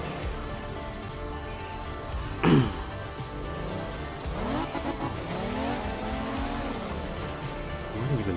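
A race car in a racing video game drives with a continuous engine drone, then its tires squeal sharply in a brief skid before the engine revs climb and fall again while the car handles poorly.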